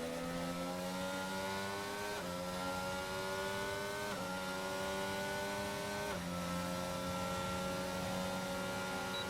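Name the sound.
race cars driving in a racing video game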